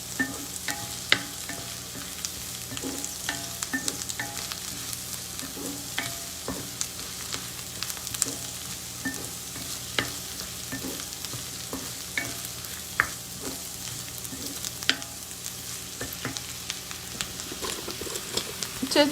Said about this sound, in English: the onions will take somewhere between 5 to 7 minutes to brown